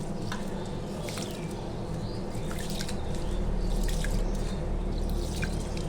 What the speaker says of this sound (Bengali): এখন এই যে চালটা সুন্দর করে ধুয়ে নিই